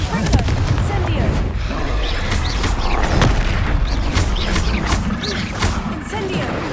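A loud, dense fiery blast from the Incendio fire spell in the Fantastic Beasts: Enter the Vivarium game, a sustained roaring rumble with repeated bursts across the whole stretch, under occasional game speech.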